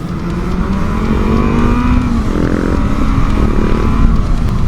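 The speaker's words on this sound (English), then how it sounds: "Revving like crazy here." Loud, continuous engine roar with rising revs from motorcycles revving close by on a large group ride, steady and dense throughout with no talking.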